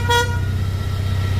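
A Honda ST1300 motorcycle from 2007 sounds its replacement horn, mounted on the main bracket and aimed forward, in one loud, steady honk that is brightest at its start and holds for about a second and a half.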